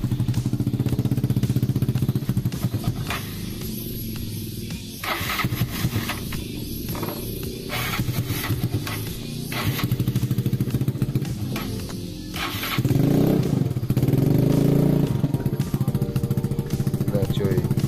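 A motorcycle fitted with an RCB aftermarket exhaust from Purbalingga runs close by with a steady, throaty idle and several short revs, and someone talks over the engine at times.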